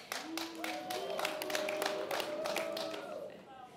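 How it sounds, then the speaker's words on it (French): Applause from a political rally audience, a steady bed of many hands clapping with crowd noise, heard at moderate distance beneath a sustained tonal drone. "J'imagine que les applaudissements sont des applaudissements de soutien"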